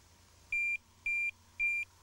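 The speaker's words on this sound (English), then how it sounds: "turn the buzzer on to plus or minus, it doesn't matter. Get the normal bleeps." A Tx-i Plus alarm buzzer gives three evenly spaced, clear electronic bleeps, each about a quarter second long, at steady volume over a faint background hum.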